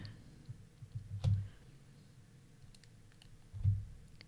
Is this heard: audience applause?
no